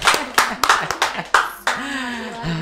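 A small student audience at an OSIS SMA 3 Luwuk podcast session in Banggai claps in a few sharp, scattered bursts, close by, with a voice talking in between.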